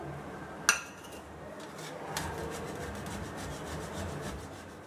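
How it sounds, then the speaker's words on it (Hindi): Two medium-sized boiled potatoes are grated by hand, producing a soft steady rasping and rubbing close up. One sharp clink comes near the start, and no one talks. "दो मीडियम साइज के आलू को उबालने के बाद कद्दूकस कर लेते हैं"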